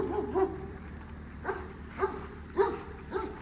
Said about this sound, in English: We do have a guard dog on premises here.